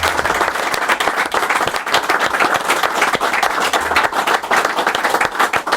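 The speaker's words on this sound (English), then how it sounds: "Give them a round of applause" A studio audience breaks into loud, dense applause, continuous close clapping that holds steady for several seconds with no talk over it.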